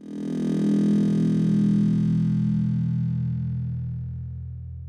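Kick drum sample stretched hard with Flex time-stretching into a long, droning low tone that swells, holds and slowly fades over several seconds, with a thin buzzy upper edge, heard alone.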